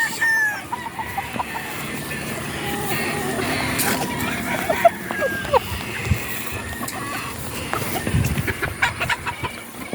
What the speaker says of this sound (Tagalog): Yan, napakaraming manok dito guys.